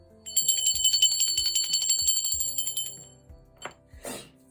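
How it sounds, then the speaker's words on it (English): A hand bell rung in a spiritual ritual for guides, angels and ancestors rattles in a fast, bright continuous trill for about three seconds, then fades, followed by a couple of brief handling rustles, close and alone. "I'm going to ring the bell for my spirit guides, guardian angels, and ancestors."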